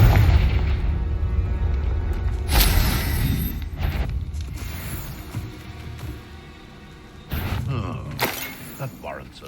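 Confringo blasting spell explosions in the Hogwarts Legacy video game, heavy booming blasts with crackling debris, one near the start and another pair later, over game sounds and a voice.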